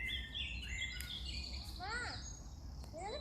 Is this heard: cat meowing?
no